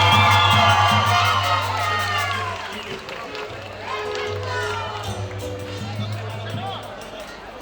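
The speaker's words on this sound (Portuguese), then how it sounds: "Ô pessoal, vamos aplaudir aí, é o último batismo hoje aí" A congregation at a church baptism service applauds and cheers, sustained clapping with whoops and crowd hubbub, voices and a low music drone running beneath.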